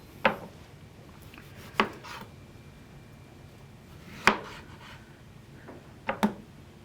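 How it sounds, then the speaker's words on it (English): A knife chopping tomatoes on a board, a few sharp, isolated cuts spaced irregularly, with a quick double tap near the end, close and fairly quiet. "the recipe calls for 1 cup of chopped tomatoes"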